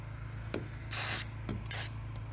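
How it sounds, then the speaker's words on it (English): Two short bursts of dry lube aerosol sprayed into an Andersen window channel, hissing and close, separated by a pause, with faint soft knocks and a low hum underneath. "And then just spray it in there."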